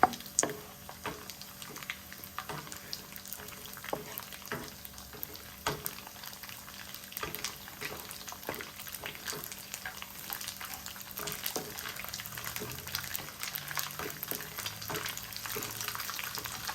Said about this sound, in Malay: Goreng sampai dia rangup lah sampai dia masak.